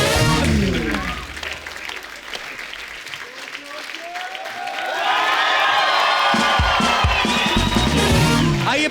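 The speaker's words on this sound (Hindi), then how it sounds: "जोरदार तालियां एक बार धर्म पाजी के" A television studio audience on The Kapil Sharma Show applauds and cheers loudly to welcome Bollywood star Dharmendra, with whoops swelling midway and a voice talking over the steady clapping.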